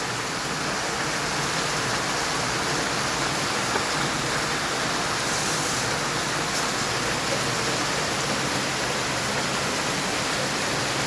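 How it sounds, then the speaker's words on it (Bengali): Heavy rain falls steadily in a hilly area, a dense, loud and unbroken roar of water that holds throughout with no voices or other sounds. "আজকে প্রচুর বৃষ্টি হচ্ছে"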